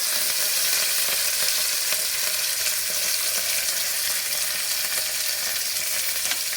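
Green chillies, curry leaves and dried chillies fry in hot oil for a raw mango dal, giving a loud, steady, dense crackle that stays even and continuous throughout, with no voices.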